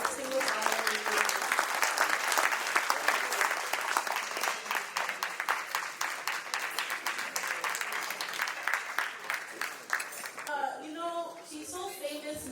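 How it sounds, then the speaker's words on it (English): A gala awards audience applauds a distinguished honoree with sustained, dense clapping, and a voice speaks as the applause tapers off near the end. "please give a round of applause for our distinguished honoree"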